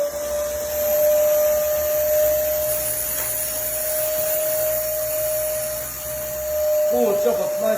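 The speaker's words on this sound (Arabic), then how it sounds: "والمكنسة بسم الله ما شاء الله بنجربوها توا في قوة شفطها" Sama electric vacuum cleaner running during a suction test, a loud steady motor whine with a high tonal hum throughout, with someone talking over it and a slight shift in pitch near the end.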